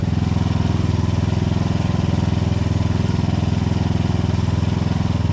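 A John Deere mower's Kawasaki FC420V engine runs close and loud with a steady, even putter, a fast regular chug holding the same pace throughout.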